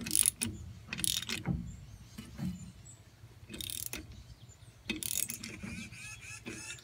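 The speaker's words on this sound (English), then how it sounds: "I've got a 15mm socket on it. All I'm going to do is thread this bolt into these holes" A ratchet turns a bolt with a 15mm socket, threading it into a rear brake drum on a 2007 GMC Sierra to force the drum off the hub. Quiet, close clicking bursts come and go in short spells.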